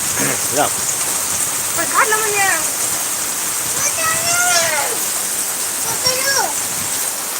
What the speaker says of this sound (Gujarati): ખાટલો અહીં લઈ લો અહીં બેઠા બેઠા વાવાઝોડું જોઈશું આપણે